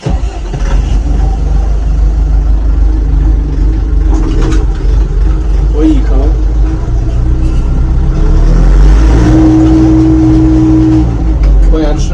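Loud, steady rumble of a Foton 354 tractor engine starting with a key and running, with a low drone and a rev or change in pitch partway through, recorded close by.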